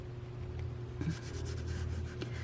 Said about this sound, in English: We're going to go ahead and start distressing this. And I might even just go right over the wood to darken up the wood a little bit.